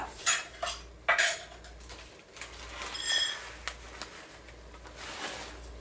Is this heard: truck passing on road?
no